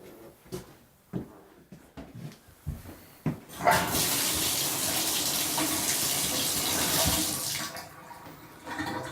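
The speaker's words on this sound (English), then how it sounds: "checking that the water's running and it's actually draining properly as well" A residential bathtub faucet is turned on after a few clunks and handling knocks, then water gushes loudly and steadily into the tub and down the drain for several seconds.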